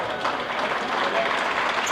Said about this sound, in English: Nice round of applause from the Assumption faithful.